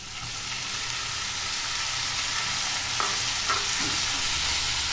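Onion and tomato masala frying in a pan for arbi curry, a dense, even sizzle close up with a few light stirring scrapes near the end.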